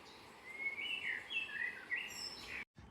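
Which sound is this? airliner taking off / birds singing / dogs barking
birds singing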